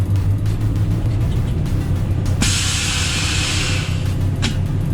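A vehicle drives steadily through a topsoil screening site on a sunny day, its engine a continuous low rumble with a brief rush of louder noise partway through; no one speaks.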